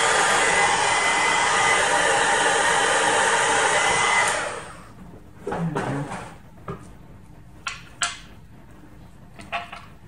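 Handheld heat tool blowing hot air onto the center of a craft flower, a loud steady hiss for about four seconds that cuts off, followed by scattered small clicks and clatter of handling.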